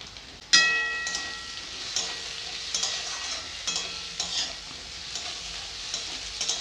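Peas dropped into hot oil with fried onion and ginger paste in a pan, a sharp burst of sizzling followed by steady frying hiss and rhythmic stirring scrapes, close and alone.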